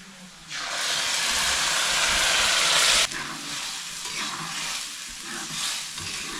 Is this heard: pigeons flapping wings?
no